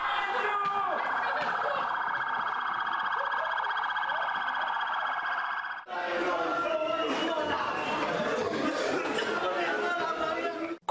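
Sirens of fire engines and ambulances responding in force to a rescue drill simulating a burning nightclub, a loud steady wail for about six seconds, then giving way to a busy mix of siren fragments and crowd chatter.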